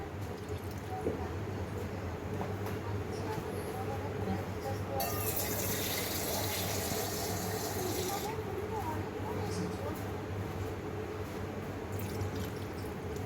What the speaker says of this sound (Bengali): এই যে পানি দিয়ে দিলাম।